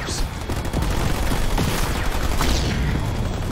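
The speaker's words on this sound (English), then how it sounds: "I'm receiving fire from enemy ground troops!" Dense, sustained gunfire from enemy infantry in the video game Halo Wars 2, a loud continuous fusillade of rapid overlapping shots and booms filling the whole stretch without pause.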